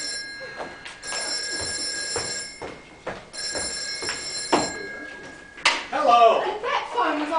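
An old-style telephone bell rings indoors in two long sustained bursts with a pause between, loud and close, followed by movement and a voice as the receiver is picked up.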